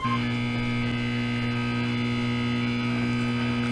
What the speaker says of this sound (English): the lights there are all uniform generally, and they all have a buzzing sound.